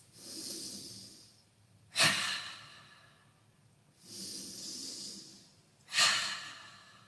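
Open-mouth exhales during a chair yoga session: two long, soft breathy sighs, each ending in a sharper, louder puff of breath, close and alone with no talk.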